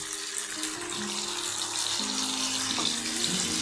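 Water pours steadily into a cooking pan of dhone begun (eggplant with coriander, green chili and garlic paste), a close, continuous splashing rush with faint tones underneath.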